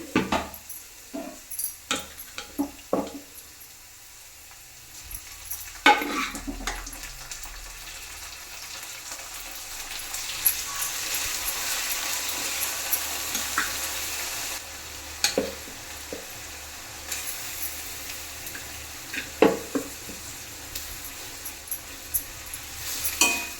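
Greens are stirred and fried in a pan for a village-style dish, with soft sizzling and frequent clinks and scrapes of the spoon, quiet at first and then building into a steadier fry.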